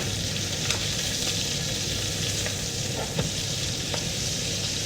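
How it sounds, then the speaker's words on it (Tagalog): Bottle gourd and longganisa sautéing in oil, a steady close sizzle running throughout with a few soft stirring taps, no voices. "Yun ang gagamitin ko pang gisa dito sa aking upo."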